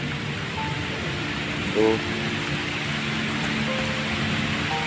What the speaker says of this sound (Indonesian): Hujan teman.